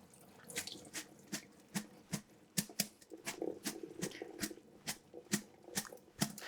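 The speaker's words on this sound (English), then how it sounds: "make sure your bean sprouts are completely rinsed off" Bean sprouts are rinsed in a mesh basket under running tap water, with steady splashing broken by a regular series of sharp drips and plops, close and fairly quiet.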